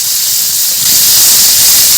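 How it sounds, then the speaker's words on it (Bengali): Potato pieces frying in hot mustard oil give a loud, steady, close sizzling hiss with no talking. "এখানে আলুগুলো আগে ভেজে তুলে নেব।"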